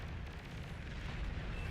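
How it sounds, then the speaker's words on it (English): A unit explodes in the strategy video game Beyond All Reason, giving a low rumbling boom that rolls on steadily for under two seconds at a fairly faint level, with no talk. "takes out all of the Grunts before, with its final explosion"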